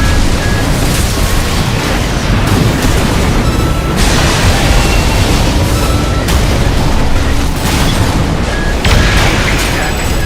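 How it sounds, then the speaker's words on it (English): Loud, sustained blast roar from a detonation in the mecha game Armored Core 6, dense booming rumble filling the whole stretch with layered explosions and crackling debris. "Alright, let's detonate this one."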